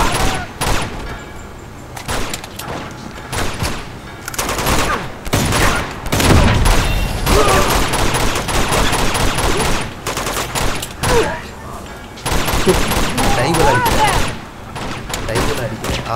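Loud, sustained machine gun fire in Uncharted 2: Among Thieves Remastered, long rattling bursts broken by brief gaps, layered with other battle noise and a voice talking at points.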